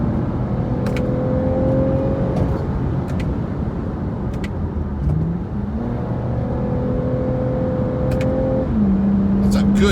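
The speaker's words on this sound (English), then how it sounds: "That's a good sounding car, actually." A 2020 Toyota Camry TRD engine pulls hard while driving, its tone climbing steadily in pitch, dropping at a gear change, then rising again to another shift, loud and close over road noise.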